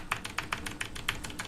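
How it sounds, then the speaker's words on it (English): Rapid tapping of the E key on a computer keyboard during a video game, quick light clicks about four per second, faint under low background noise from the game. "This is the sound of me mashing E."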